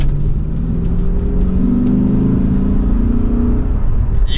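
A Lexus RC F V8 in normal drive mode revs under light throttle, a steady close engine drone rising in pitch and holding, alone without talk.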